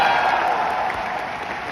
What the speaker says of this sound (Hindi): एक बार आकाश जी के लिए जोरदार तालियां।